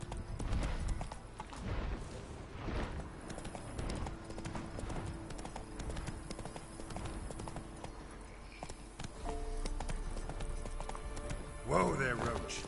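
Roach, the horse from The Witcher 3, gallops steadily with rhythmic hoofbeats over constant game ambience. A voice speaks over it, and a brief whinny-like flourish comes near the end.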